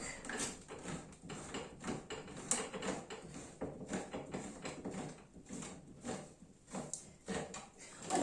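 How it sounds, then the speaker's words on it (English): A can of coconut milk is opened with a hand can opener, giving a continuous run of close mechanical clicking and grinding that rises and falls in quick, uneven bursts, with no talk. "at that same time we're going to open the coconut milk"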